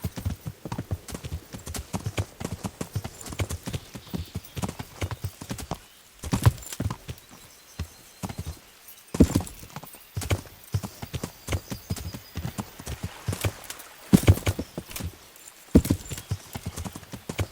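Steady clip-clopping of horse hooves in the video game Kingdom Come: Deliverance trots on a hard surface throughout, rhythmic and fairly close, with occasional louder hoof strikes.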